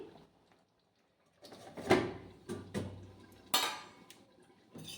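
A lid is set on a pot of boiled meat with a few close metallic clinks and clatters spread over several seconds after a quiet start, without any talk.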